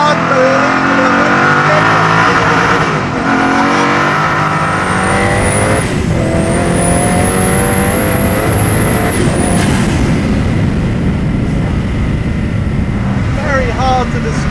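A Koenigsegg Agera R supercar roars hard around a small track, its engine loud and close with rising revs, gear changes and sharp shifts throughout, while a voice talks over the noise.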